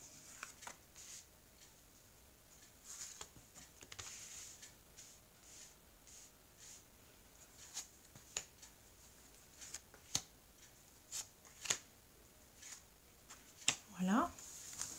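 Tarot cards being cut and picked from the deck, giving soft scattered card flicks and taps with a brief shuffling riffle near the end, quiet and close with faint talk underneath.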